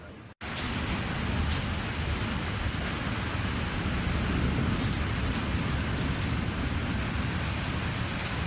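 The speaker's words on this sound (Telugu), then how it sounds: "చాలా అంటే చాలా దారుణంగా వస్తుంది వర్షం అయితే" Heavy rain pours steadily at a camping spot, a dense, loud, unbroken hiss that starts abruptly and holds for several seconds with no voices over it; thunder is not clearly picked out.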